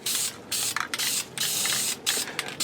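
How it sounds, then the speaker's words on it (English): An aerosol spray paint can lays a heavy first coat onto a 3D-printed part, a loud, close, steady hiss in long bursts broken by brief pauses. "I'm going to break the rules and spray heavy first coat."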